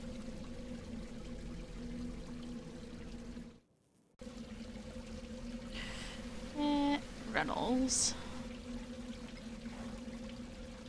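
Water pouring down from above in a video game, a steady trickling stream running under game sounds and someone speaking, broken by a brief dropout midway and a few sharp effect noises near the end.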